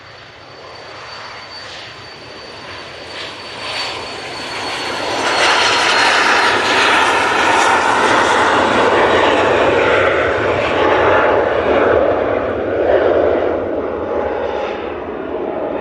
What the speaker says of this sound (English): Silver Aviation PC24 departing, and that's off to Cannes